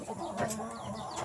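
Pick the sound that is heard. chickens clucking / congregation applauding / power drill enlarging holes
chickens clucking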